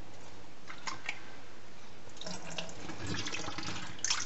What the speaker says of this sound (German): Muss mal ein bisschen ausspülen hier. Da kommt Wasser rein.